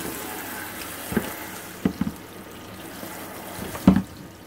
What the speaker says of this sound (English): make sure you get as much of the suds out as possible. So every bit of the hair is rinsed.